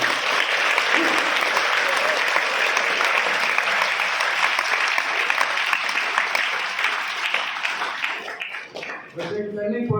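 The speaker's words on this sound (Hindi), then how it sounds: "मैडमों को लेकर और विशेष जोर से जोरदार तालियां।" Loud, sustained applause from a school audience at a Mother's Day program, cheering the teachers; thick clapping for most of the stretch, thinning out near the end as a voice begins talking.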